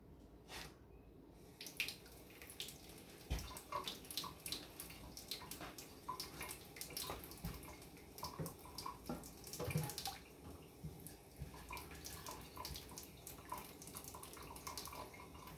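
Water runs from a tap, a continuous splashing flow with scattered drips and knocks, heard close but at low level for about fifteen seconds, with no speech.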